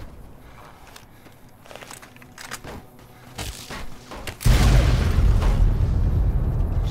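Explosions in a modded Fallout New Vegas game: scattered shots and footsteps give way to a sudden, massive close blast, followed by a sustained loud rumbling roar of further detonations.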